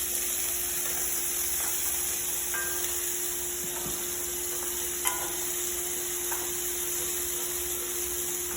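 Onion and bell pepper sizzle steadily in a frying pan, a constant hiss under a faint background hum, with occasional soft stirring clicks and one small tap near the end.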